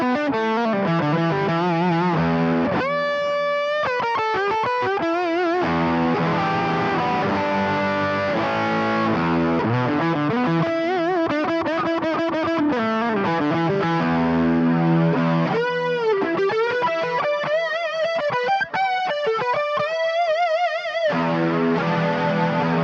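An electric guitar played through a GK pickup into a Boss SY-1000 on an advanced lead overdrive patch gives sustained, heavily distorted lead lines with bends and held notes, loud and alone.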